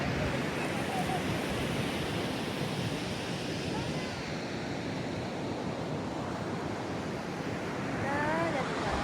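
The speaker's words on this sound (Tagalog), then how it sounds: "lakas na ng alon" Strong ocean surf at Bondi Beach roars steadily and loudly, with waves breaking continuously and wind buffeting the microphone throughout.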